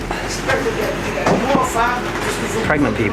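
Copenhagen train running along its track, a steady rumble with brief squeals and clicks as it moves, with people talking close by over it.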